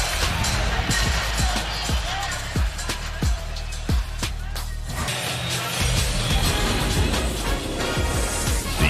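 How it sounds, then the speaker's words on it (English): A Minnesota home crowd at an NBA Play-In basketball game cheers in a continuous roar, with sharp squeaks and bounces from the court cutting through and an announcer talking over it. "and the crowd loving it"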